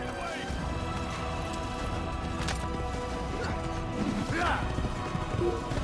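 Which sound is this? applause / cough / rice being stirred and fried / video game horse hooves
video game horse hooves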